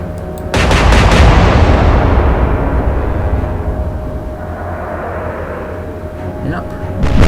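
Forward guns of a warship in the naval strategy game Atlantic Fleet fire in a sudden loud blast that rolls into a long, slowly fading rumble, with a further boom at the very end.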